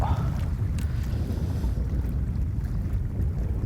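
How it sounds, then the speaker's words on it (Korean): Strong wind gusting over open water during a bass fishing boat outing, a steady, loud low rumble of wind buffeting the microphone with water wash beneath it, heard alone without talk. "바람이 너무 강해서 더 이상 전진은 힘들 것 같아요"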